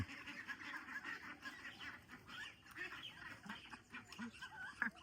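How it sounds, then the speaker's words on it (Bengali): Domestic native ducks quack repeatedly amid a busy background of birds and clatter, a steady murmur with occasional louder calls, moderately distant. "এগুলো হচ্ছে আমাদের দেশি হাঁস"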